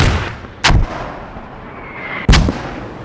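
Two loud, booming mortar shots fire in the military video game Squad, spaced about a second and a half apart, each a sharp blast followed by a rolling echo that decays into the ambient battlefield hiss.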